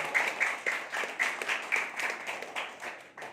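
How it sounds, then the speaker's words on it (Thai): A small audience at a company business talk claps for a member, a thin, scattered patter of hands with uneven bursts, fairly faint and distant throughout. "เอาปรบมือให้กับคุณไอเดียนะครับ"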